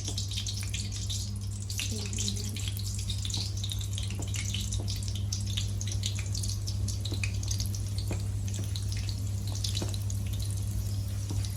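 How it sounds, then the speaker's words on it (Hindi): Mince (qeema) samosas frying in hot oil over medium heat, a dense, steady sizzle with fine crackling pops filling the whole stretch, close and continuous with no talk. "अब मीडियम आंच पर इसको हम फ्राई करेंगे समोसे डाल के।"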